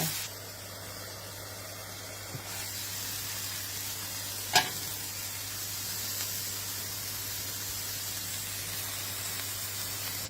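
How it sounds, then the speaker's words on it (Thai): Pork and eggs stir-fry in a hot pan with a steady, close sizzle throughout, broken by a single sharp clink of a utensil midway. "ผัดหมู ผัดไข่ด้วยนะะทุกคน"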